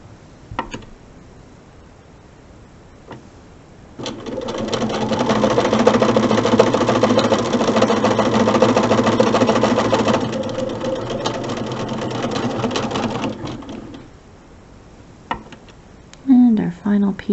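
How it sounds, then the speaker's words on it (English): A sewing machine stitches quilt block corner units, running in one steady, loud burst of rapid mechanical whirring for about ten seconds, with quieter handling noises before and after. "I sew right off the edge and do the same thing again."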